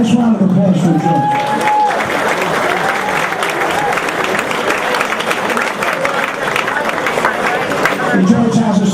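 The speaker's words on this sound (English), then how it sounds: "Nice round of applause for George." A crowd at a hall of fame event gives a coach a round of applause, with dense clapping and some cheering running continuously and loud.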